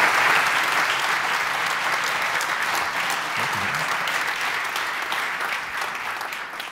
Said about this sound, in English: And this is your applause.